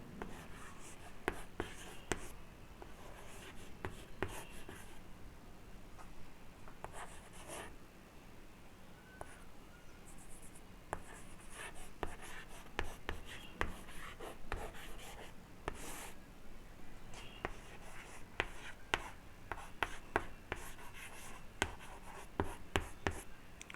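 Handwriting during a class 9 maths lesson on polynomials: a pen scratches steadily across a surface in short strokes and taps, close and fairly quiet, for over twenty seconds with no speech.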